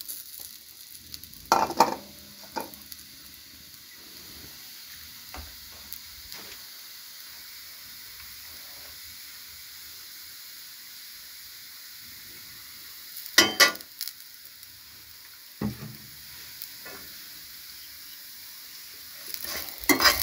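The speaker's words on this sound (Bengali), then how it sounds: "এখন আমি এটা একটু হালকা তেলে গরম ভেজে নিব।" Cut-up pieces of boiled roti fry in a little oil, a faint quiet sizzle broken by a few sharp spatula clinks and scrapes against the pan.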